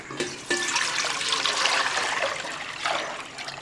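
Cauliflower being rinsed under a running kitchen tap, a steady close splash and trickle of water with shifting spatter as the florets are turned, no talking.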